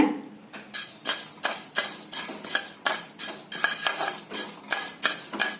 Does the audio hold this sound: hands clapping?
no